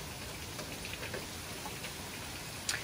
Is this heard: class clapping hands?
no